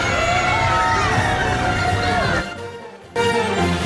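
Live crowd cheering and shouting at the WESH 2 Olympic Zone broadcast at Universal Orlando Resort, a dense, steady roar with whoops and children's yells that dips briefly near the end before surging back.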